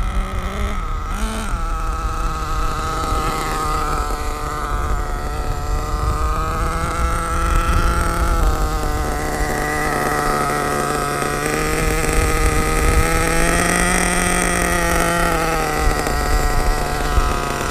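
An HPI Savage X 4.6 nitro RC truck engine runs below full throttle on its second tank, a loud, sustained buzzing whine whose pitch rises and falls continuously.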